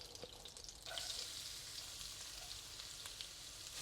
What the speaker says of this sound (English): we'll fry until the garlic is fragrant